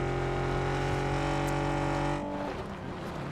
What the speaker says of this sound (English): That's definitely a V8 with possibly a rusted out of exhaust.